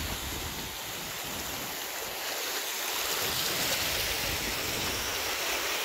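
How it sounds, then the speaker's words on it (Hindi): Steady broadband wash of sea waves at Aksa Beach, a continuous loud roar of surf with no talking over it. "देखो इधर ये इधर समुंदर का साइड"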